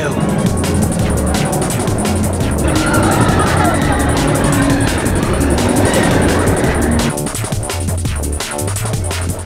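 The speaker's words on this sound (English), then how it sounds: "We're about to ride Tron for the very first time." Loud, continuous roar and rushing rumble from the Tron roller coaster at Shanghai Disneyland, sustained at close range with a rattling texture toward the end.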